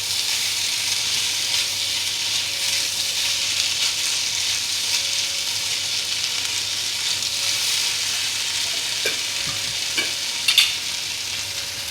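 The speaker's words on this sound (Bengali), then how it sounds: "সতে করে নিই।" Corn chaat with small tomatoes, chilli and fresh coriander leaves sautéing in a pan, a steady close sizzle with stirring scrapes and a few sharper clicks near the end.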